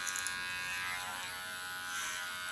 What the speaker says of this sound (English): go in with my clipper and gently go to the other side